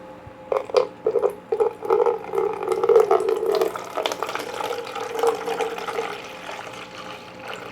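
Water pours from a bottle into a container in uneven glugging bursts, fairly loud and close, tapering to a lighter trickle and splashing toward the end, with no voices.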